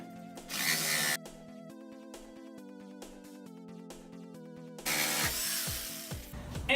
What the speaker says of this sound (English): now it's time to cut it. I use this little jigsaw here